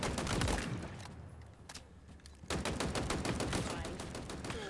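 Powerful automatic rifle fire in Halo Infinite: rapid loud bursts of shots crackle in close succession, with a brief lull before firing resumes steadily to the end.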